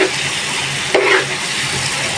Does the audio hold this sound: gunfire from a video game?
no